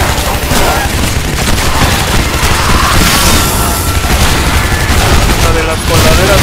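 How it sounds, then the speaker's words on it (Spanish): A massive explosion and dense gunfire roar from the video game Shadow Warrior, a loud, continuous wall of blasts and rapid shots with a voice talking over it. "Explosión masiva."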